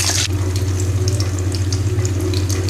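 Five eggs drop into about 100 grams of hot oil with fennel seeds for chicken noodles, giving a steady, close sizzle and crackle that holds at an even level throughout.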